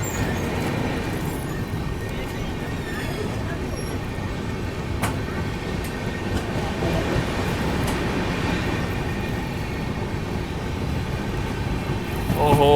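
The Pune–Hyderabad Shatabdi Express runs steadily, giving a continuous low rumble and rattle of rolling stock heard from on board, with a faint voice now and then.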